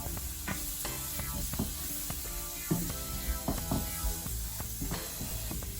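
Chilli prawn linguine ingredients with plum tomatoes sizzle gently in a pan in a caravan kitchen, soft steady frying with intermittent stirring clicks and scrapes, fairly quiet and close.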